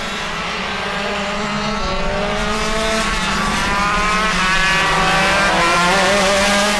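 Shifter karts race around a track, a close, loud, continuous engine whine with rising and falling revs as several karts pass together, and no voices.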